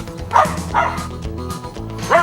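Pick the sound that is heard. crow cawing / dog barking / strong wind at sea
dog barking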